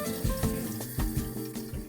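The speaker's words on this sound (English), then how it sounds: "After soaking, I rinse my chicken under running water and drain it." Chicken is rinsed under running tap water, giving a close, continuous splashing stream with small irregular surges and no voices.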